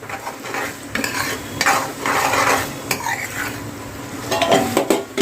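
Salt stirred into sizzling vegetable fried rice in a pan, with a steady frying hiss and repeated scraping, clinking strokes of a spoon or spatula against the pan throughout.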